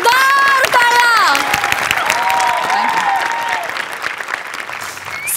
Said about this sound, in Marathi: या कडक परफॉर्मन्ससाठी जोरदार टाळ्या.